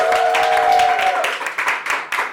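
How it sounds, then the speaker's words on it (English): A stand-up comedy audience claps to welcome comedian Kendra Augustin, a brief burst of applause with a short cheer at the start, the clapping thinning into scattered claps. "Please give a warm round of applause for Kendra Augustin."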